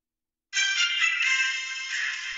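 After a moment of silence, a phone speaker plays the Monday Night Football theme tune, thin and bright, sustained at steady volume and close by.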